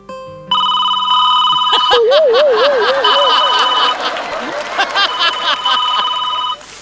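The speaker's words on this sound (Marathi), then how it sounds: "फोनची रिंग" A telephone rings repeatedly in electronic tones during a Marathi stage comedy sketch, with a warbling tone in the middle, and an audience chuckles and laughs between the rings.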